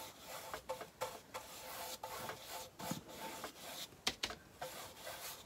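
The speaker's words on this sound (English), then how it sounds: "I took some watered down antiquing wax Waverly, and I'm just gonna put some of this on" Watered-down Waverly antiquing wax being brushed onto a wooden Christmas sign, giving soft close-up rubbing and scrubbing strokes in an irregular rhythm, with a few sharper taps, quiet and alone.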